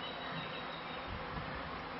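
A honeybee swarm on a rooftop gives off a continuous dense buzz, steady and moderately loud for the whole stretch, with no talking.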